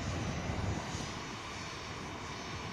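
Aircraft engines at Manchester Airport roar steadily in a dense, unbroken rumble with broad jet noise, loud and constant throughout without any speech.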